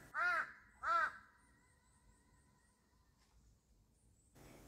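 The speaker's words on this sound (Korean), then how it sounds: "까마귀도 산림욕을 하는 중인가 봅니다." Two loud, close crow caws in quick succession ring out in a pine forest, followed by quiet woodland ambience with faint distant bird calls and a soft rustle at the end.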